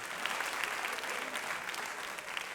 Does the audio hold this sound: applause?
yes